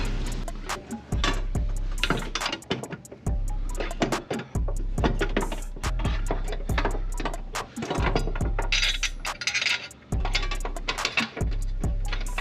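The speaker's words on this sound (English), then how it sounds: "the first bolts that I'm going to put in are going to be these 2 bolts here." Bolts being fitted on aftermarket rear trailing arms of a car, heard as rapid ratcheting bursts and clicks in a repeating stop-start rhythm, close and fairly loud, with a low hum underneath.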